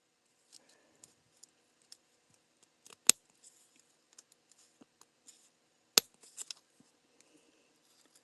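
Two sharp scissor snips stand out amid a scattering of faint, irregular clicks and light paper handling in an otherwise quiet room.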